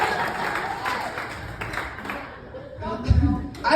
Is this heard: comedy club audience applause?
yes